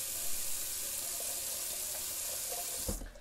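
Water runs steadily from a tap into a sink while alum is rinsed off after a shave, a close, even hiss that cuts off sharply near the end.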